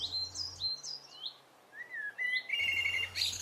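Blackbirds sing in Kensington Gardens, London, in March, with fluting phrases and short chirps coming and going, fairly faint over a low hum of city background.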